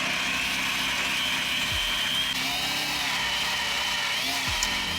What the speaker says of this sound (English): you just blitz it in your blender. In the Beast blender, it should only take like a minute